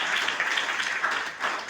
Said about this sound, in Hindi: मैं चाहता हूँ कि एक बार जोरदार तालियां सीनियर के लिए